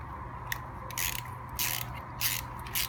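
A ratchet with a 1/2 inch socket works loose the bowl of a lawn mower carburetor on a bench, giving four short bursts of rapid clicking close by with quiet pauses between them.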